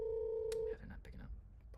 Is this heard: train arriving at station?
no